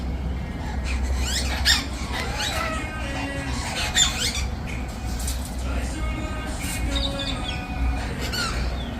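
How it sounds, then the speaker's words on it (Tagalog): Noisy apostlebirds calling together outdoors, a busy mix of harsh squawks, squeaks and chirps over steady background rumble, with people talking throughout. "Mga apostle bird tong mga nandito."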